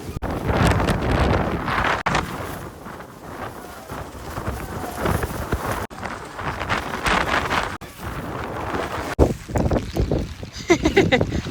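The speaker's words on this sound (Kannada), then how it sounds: "ನನ್ನ ಲೈಫಲ್ಲಿ ಇಷ್ಟು ಗಾಳಿನ ನೋಡೇ ಇರಲಿಲ್ಲ" Strong wind buffets the microphone on a hilltop near Chikkamagaluru, a loud continuous roar with gusts that rise and fall, while people's voices come through faintly at times.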